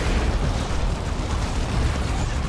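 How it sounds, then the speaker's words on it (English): A plasma cannon shot explodes in the Dawn of War 2 strategy game, a loud, dense, rumbling blast that fills the whole stretch with steady low-heavy noise. "It's another plasma cannon shot."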